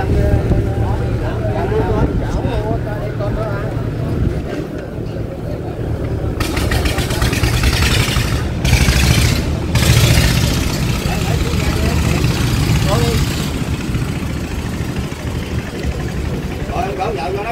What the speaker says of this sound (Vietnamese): chiếc ghe cào của người bạn của chiếc Khởi chuẩn bị xuất bến